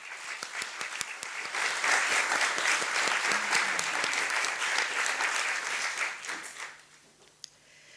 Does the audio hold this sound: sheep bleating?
no